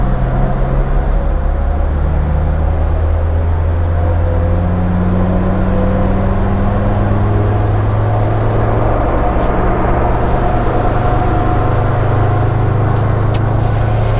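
A Land Rover Defender Td5 diesel engine revs on a dyno, a loud, close, continuous rumble whose pitch climbs steadily toward about 4,100 rpm.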